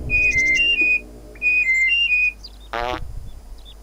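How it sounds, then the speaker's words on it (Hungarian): A melodic whistle call from Oddworld: Abe's Oddysee plays twice as a short rising and falling sequence of clear tones. A brief burst of noise follows. "Akkor kell egy síp."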